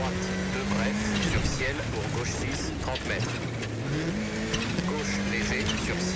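Rally car at speed on a gravel stage in Sardinia, engine droning and shifting pitch continuously with bursts of revving, heard from inside the cabin under a co-driver calling pace notes; the car is handling oddly.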